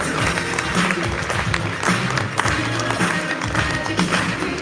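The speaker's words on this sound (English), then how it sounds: "Let's give a huge round of applause to our CEO, Mr. Mubashir." Conference audience applauding a company CEO, a continuous, busy roar of clapping with some low rumble and crowd noise underneath.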